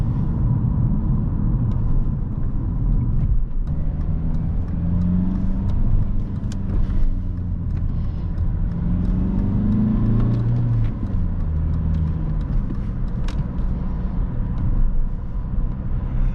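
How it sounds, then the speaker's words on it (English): Alfa Romeo 159 with a 1.9 JTDm 150 hp multijet diesel, 14 years old, driven through city and extra-urban roads, giving a steady low engine drone and road rumble from inside the cabin, with a brief rise in revs midway. "I hope you enjoyed this POV driving of Alfa Romeo 159 with 150 horsepower multijet engine"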